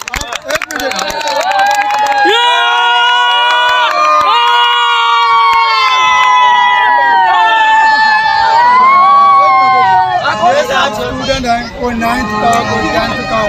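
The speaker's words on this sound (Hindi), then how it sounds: "तालियां बजाओ" A crowd of children at a Pakistani Independence Day gathering cheers and shouts together in loud, sustained, high-pitched voices, with some excited chatter toward the end.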